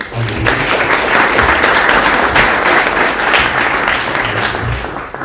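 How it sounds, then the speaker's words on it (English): An audience at a hackathon talk event applauds the speakers, a dense, steady wash of clapping from many hands that holds at full strength for about five seconds. "let's give another round of applause for the speakers who came here"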